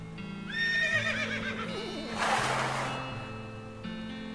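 A game horse, Rissa in West of Loathing, lets out a loud, quavering whinny that trembles and falls, followed by a snort, all set over a steady low musical drone.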